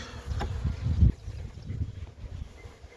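Honey bees from a swarm buzz around in an uneven drone, louder for the first second with a few close passes, then thinning to a fainter, scattered hum.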